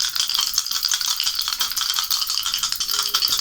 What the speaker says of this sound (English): I'm going to use the dice to see where they're gonna fall.